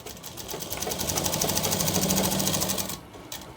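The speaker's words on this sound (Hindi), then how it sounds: "इस तरह हमें कॉलर के सिलाई अटैच करनी" Steady machine stitching from a sewing machine joining a shirt collar, a continuous rapid mechanical whir that runs for about three seconds and then stops abruptly.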